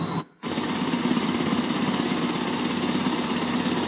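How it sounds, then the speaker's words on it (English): After a brief gap, a sound machine plays an idling lawnmower: a small engine idles steadily with a constant buzzing, rattling drone that continues unchanged. "Idling lawnmower."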